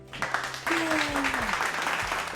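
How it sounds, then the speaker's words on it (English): A studio audience gives a short round of applause, moderate and somewhat distant, with a tonal sweep and background talk mixed in. "Round of applause, everybody."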